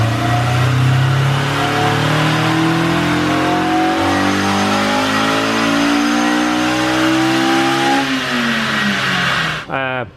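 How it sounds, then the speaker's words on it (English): Honda S2000 engine with an air box modification revs hard and loud, pitch climbing steadily as it pulls up through the VTEC changeover, then the throttle snaps shut with a brief crackle at the end. "this is just stabbing the throttle at 2200, and obviously the VTEC changeover made power"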